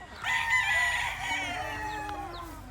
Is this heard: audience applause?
no